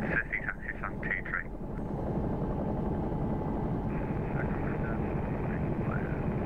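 A Bell 222 helicopter's rotor and turbine in the X-Plane 11 flight simulator make a steady, dense droning whir that holds unchanged at an even level, with brief radio-style voice bursts near the start.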